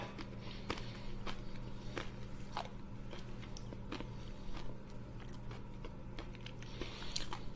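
Crisp, close crunches of a light coconut snack being bitten and chewed come in a steady, irregular run of sharp crackles over a quiet indoor background.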